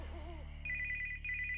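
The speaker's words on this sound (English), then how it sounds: "A strange electronic beep sounded somewhere in the apartment." A phone ringtone chimes with a short electronic melody, starting after a moment of low background hum and repeating in quick pulses.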